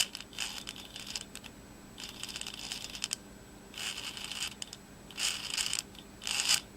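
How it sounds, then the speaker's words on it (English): Steering servo on an RC truck moving slowly, soft whirring, clicking bursts in about five short separate runs with quiet gaps between, close and faint. "That's a nice slow servo movement so I don't move it off the side step."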